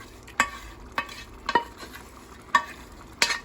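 Ground 80/20 beef is stirred in a pan for a Creole spaghetti casserole, giving five sharp, close spoon scrapes at irregular intervals over a low, steady background, with no talking.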